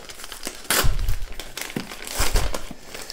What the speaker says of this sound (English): so it's got one of those kind of bubble wrap envelopes, which hopefully has kept it safe